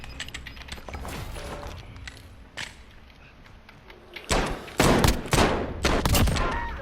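Gunfire in the Call of Duty Warzone video game: scattered shots early on, then a loud close burst of several sharp reports near the end, with mechanical clatter in between.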